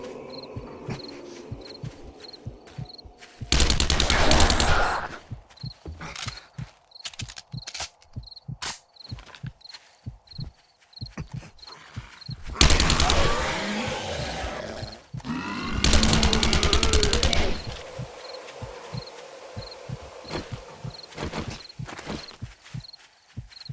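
Gunfire from the video game 7 Days to Die during a horde night at a concrete base comes as several loud bursts over a steady insect-like ambience, with rapid clicks and footstep-like taps between them.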